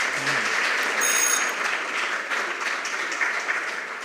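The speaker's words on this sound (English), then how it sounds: "A round of applause for them, please" Audience applause at a junior high school quiz competition quarterfinal, steady dense clapping from a crowd held at an even level for the whole stretch, with no talking over it.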